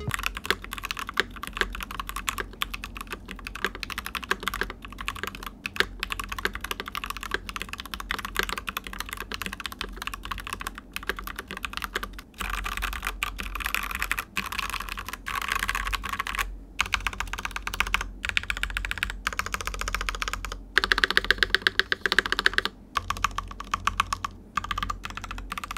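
Steady typing on a Keychron V1 mechanical keyboard with the silicone dampener removed, a dense run of close, crisp clacks and thocky keystrokes with brief pauses, with no voice over it.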